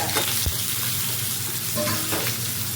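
Fenugreek seeds, small shallots and curry leaves sizzle and crackle steadily in hot oil, stirred in a pan, as the base for a Tirunelveli-style sala (sardine) fish curry; the loud frying carries on throughout with occasional stirring clatter.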